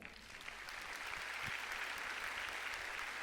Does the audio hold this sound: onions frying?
no